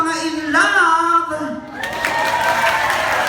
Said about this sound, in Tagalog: Pumalakpak po lahat ng mga in love.